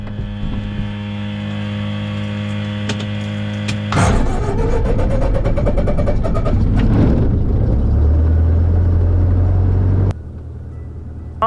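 Cessna 152 piston engine turning over and catching, then settling into a loud, rough, steady idle close by, with no talking.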